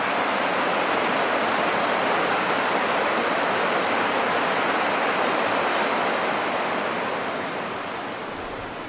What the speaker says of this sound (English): And there is the river down below.